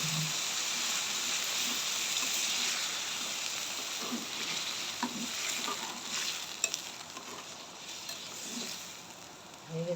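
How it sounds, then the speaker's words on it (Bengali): Water poured into a pot of sizzling biryani: a loud, steady hiss and crackle of frying, with stirring scrapes and a few small clinks toward the end. "দিয়ে দেবো পরিমাণ মতো জল।"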